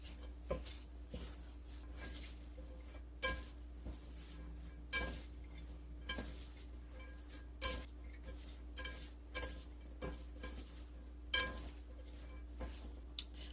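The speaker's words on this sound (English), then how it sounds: "Now we mix it together with the veggies. Let's stir them around for a little bit." Utensil clinking against a bowl while vegetables get stirred, a steady series of light taps and scrapes at irregular intervals over a low constant hum, quiet and close with no voices.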